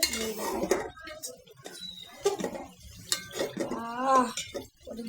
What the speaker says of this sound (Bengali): আম্মু লাউ দিয়ে রান্না করার জন্য মশলা কষাচ্ছে